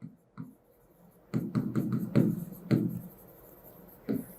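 Pen or marker writing out a maths solution on a surface: a series of short scratchy strokes in quick bursts with brief pauses, close and fairly quiet, with no talking.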